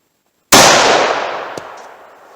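A single .357 Magnum shot fired with Federal Hydra-Shok ammunition into a stack of boards, one sudden loud crack after silence that rings out and decays slowly, followed by a faint small knock.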